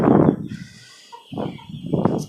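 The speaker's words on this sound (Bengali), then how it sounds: "এইখানে আমার কিছু নতুন নতুন বাচ্চা মুরগি আনা আছে দেশি" Short clucks from native chicks and chickens on a rooftop farm nearby, a few separate calls with quiet gaps between them.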